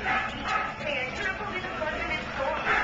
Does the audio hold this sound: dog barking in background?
yes